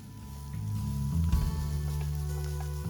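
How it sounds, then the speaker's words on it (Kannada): Coriander frying in hot oil in a pan while cooking vada pav filling, a soft steady sizzle that swells slightly, with a brief clatter near the middle and no talk. "ಎಣ್ಣೆಯಲ್ಲಿ ಚೆನ್ನಾಗಿ ಈ ಥರ ಎಲ್ಲ ಹುರಿದು ತೊಗೊಳ್ಳಿ."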